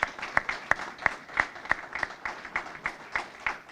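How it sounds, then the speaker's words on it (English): A crowd at an outdoor county event unveiling a new park site in Middletown applauds members of a task force, a sparse, fairly distant scattering of claps with a few sharp individual hands standing out in a loose rhythm. "So let's give them a round of applause"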